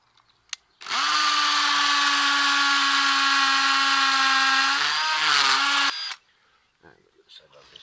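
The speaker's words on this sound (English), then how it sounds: "Now we'll take the masonry drill, make the hole ready to receive the wall plugs." A masonry drill in hammer mode runs close and loud for about five seconds, a steady harsh hammering whine, then stops.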